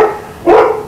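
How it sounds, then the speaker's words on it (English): A dog barks at an outdoor backyard pellet grill setup, one or two loud, close barks in quick succession, with no talking. "Sorry about my dog."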